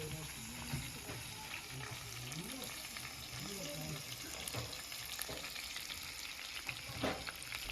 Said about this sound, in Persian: ماهی قزلالا که بعدش هم رفتیم سرخش کردیم